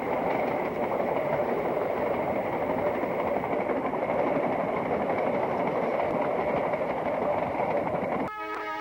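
A three-car electric interurban train of the Indiana Railroad rumbles steadily past at close range, wheels clattering on the rails for several seconds before the sound abruptly shifts at the end.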